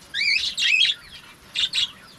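Caged pet birds, cockatiels and parakeets, give a few sharp, close chirps and whistles in two quick bursts with a short pause between.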